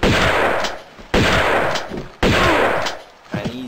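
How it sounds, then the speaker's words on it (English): Shotgun blasts from the Tomb Raider II remastered game in Bartoli's Hideout: three loud, sharp shots at roughly one-second intervals, each with a decaying tail, followed by a fainter thud. "get the shotgun out"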